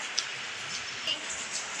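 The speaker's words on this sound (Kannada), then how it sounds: "ಮಳೆ ಬರ್ತಾ ಇದೆ ಮೂರು ದಿವಸದಿಂದ" Steady rain that has been falling for three days, a soft broadband hiss with no break and a few faint isolated drips, fairly quiet and without talk.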